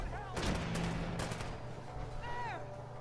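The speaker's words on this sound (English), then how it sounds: "Don't let him shoot that laser at me" Laser weapon firing in Fallout 4: a few bursts of crackling shots with zapping, pitch-sweeping tones, set against a steady game hum with occasional voices.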